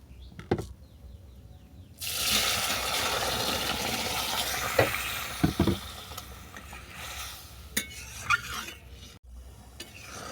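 Boiled lentils are poured into hot oil tempered with five-spice, bay leaf and dried chili, giving a sudden loud, sustained sizzle that fades into bubbling, with a few close knocks of a utensil against the pan.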